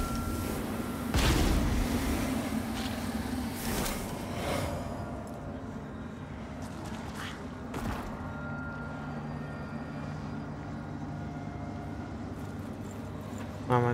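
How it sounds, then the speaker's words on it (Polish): Deep booming explosions from bombs in the video game Lords of the Fallen go off one after another, loud thuds with rumbling tails, then a quieter stretch with a low steady hum. "wybuchające bomble"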